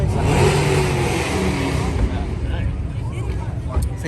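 A car engine revs hard at a nighttime car meet where Mustangs and BMWs shoot flames, a loud sustained roar that fades somewhat, with people talking over it nearby.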